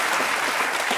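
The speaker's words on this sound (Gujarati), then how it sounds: "તાળીઓ." Studio audience at a televised courtroom-style interview show bursts into dense, steady applause, a close wash of many hands clapping at once with no voices on top.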